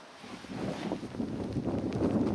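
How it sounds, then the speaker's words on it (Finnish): Steady roar of strong summer wind buffeting outdoors in Tiilikkajärvi National Park, Finland, rising and gusting throughout with broad rushing noise and low rumble. "Ei toi nyt niin hirveän pahalta myrskyltä näytä, mut hirveä tuuli."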